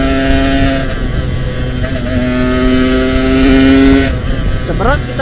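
A Yamaha RX King two-stroke motorcycle engine revs steadily while riding on a quiet road, its buzzing harmonic tone climbing and holding, with a sharp rise in pitch near the end as the throttle opens.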